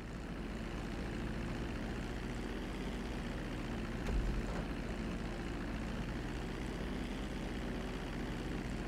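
Propeller airplane flying in the Grand Theft Auto V flight school, a steady low engine drone with a constant hum, even and unbroken throughout.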